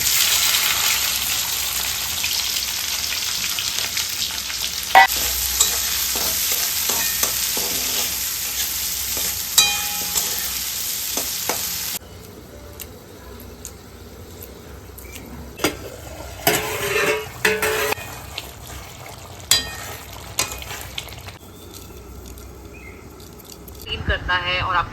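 Boiled potatoes frying and being stirred in a pan in a home kitchen, a steady sizzle with scraping and clinking of utensils, loud at first and quieter after midway, with occasional talk.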